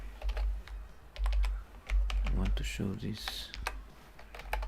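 Close, rapid typing on a computer keyboard with uneven bursts of key clicks, broken up by a person talking quietly partway through.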